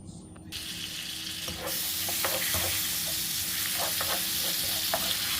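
Butter melting into caramelized sugar in a pan, giving a continuous soft sizzle with occasional scraping stir strokes, steady and close, with no talking.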